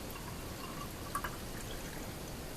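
Shaken orange juice fizzes with a soft, steady hiss of tiny bubbles, faint and close, with a couple of small pops partway through.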